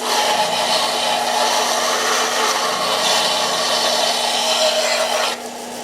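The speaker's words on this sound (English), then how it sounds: "We're gonna go cool it off real quick, and then we're gonna keep on grinding" Grinding wheel whines steadily against the edge and tip of a hand-forged blade, a loud, continuous abrasive rasp with a steady hum that drops off near the end.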